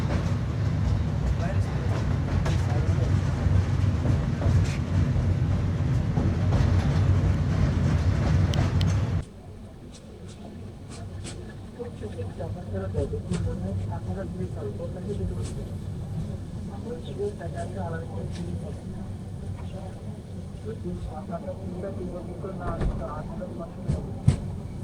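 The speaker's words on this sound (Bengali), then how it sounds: "চিটাগাংয়ের নদীর উপর দিয়ে ট্রেন চলতেছে" A passenger train crosses a river near Chittagong, its steady loud rumble and rattle filling the first nine seconds before dropping to a quieter interior hum with clicks and voices chattering underneath.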